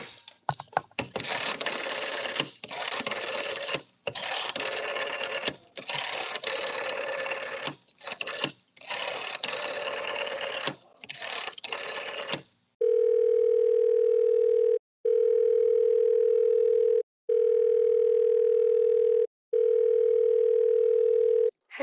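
Rotary telephone dial clicking through a number in several bursts, followed by a steady, evenly pulsed telephone tone repeating four times, with brief faint talk near the start.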